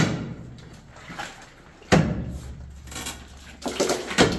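A loose rock is barred down inside a gold mine, landing as one sharp, loud knock near the middle, with scraping and rumbling before and after it and several smaller knocks toward the end.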